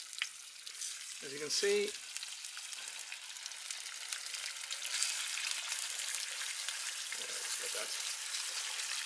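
Bacon frying in a pan over a wild camping fire gives a steady, soft sizzle with a faint crackle throughout, and someone speaks briefly near the start.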